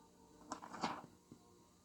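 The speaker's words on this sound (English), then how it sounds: "This is the sound of a page turning." A soft papery rustle and swish of a page being turned, brief and close, followed by a faint tap, in a quiet room.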